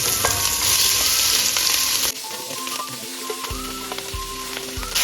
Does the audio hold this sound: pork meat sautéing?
yes